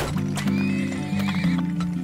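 Horses in the video game Turmoil let out a loud, close neigh with a wavering whinny, accompanied by clip-clop hoofbeats and a low steady background hum, no voices.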